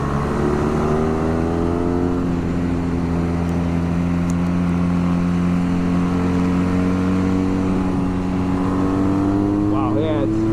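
A 2022 BMW R nineT roadster accelerates wide open in third gear, its engine note climbing in a loud continuous drone from the rider's perspective, with heavy wind rush throughout.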